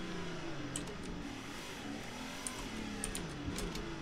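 Car engine revving and droning in Roblox Jailbreak during a drift, a steady mid-pitched motor with rising and falling pitch sweeps and faint squeals, loud and continuous throughout.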